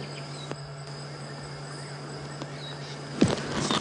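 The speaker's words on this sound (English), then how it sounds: "You can hear a bunch of other frogs starting to call behind." Frogs and insects call at night in the bush of a game reserve, a steady chirring drone with thin sustained tones and a brief louder rustle near the end, no talking.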